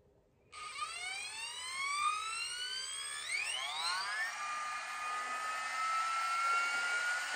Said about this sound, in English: Now you'll hear the aeroplane engine jet.